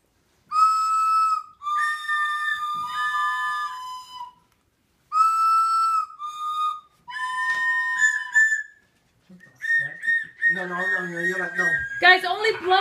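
Several shrill whistles are blown in short bursts and longer blasts, pausing between rounds, with voices speaking near the end.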